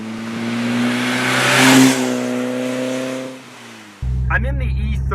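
A BMW E30 M3 engine revs with steady, strong harmonic tones that climb and swell, dip briefly, then cut abruptly into a rougher, louder drone near the end.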